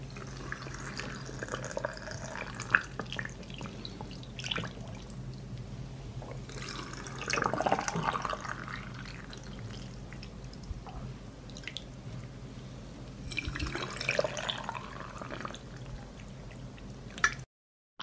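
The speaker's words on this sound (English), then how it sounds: "I pour cold water into each jar to cover the plums." Cold water poured into glass jars of plums, mostly soft trickles and drips with two fuller splashing pours, close by and with no talking.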